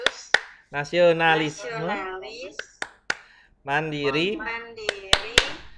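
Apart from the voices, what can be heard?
rhythmic group hand clapping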